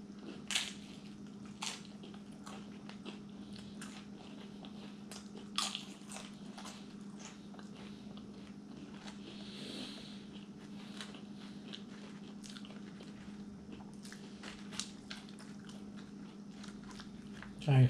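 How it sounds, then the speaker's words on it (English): Someone chews a mouthful of cheese-covered nachos close to the mic, with soft wet crunching and squishing spread across the stretch and a few sharper bites standing out. "I've been chewing and chewing."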